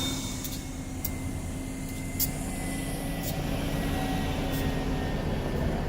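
Train standing in a rail yard, with brakes repeatedly applied and released: a steady low rumble and drone carrying several short, sharp hissing bursts spaced a second or so apart.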